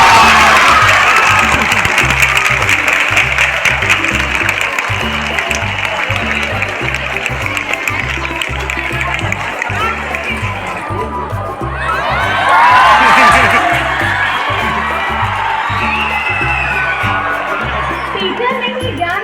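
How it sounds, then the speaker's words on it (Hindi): Sustained audience applause and cheering at a school farewell for Class X and XII students, a dense wash of clapping and shouts that dips briefly near the middle and then swells louder again. "मुस्कुरा के एक ताली बजा दीजिए हमारे प्यारे"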